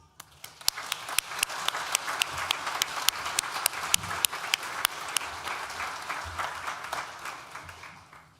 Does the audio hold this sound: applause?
yes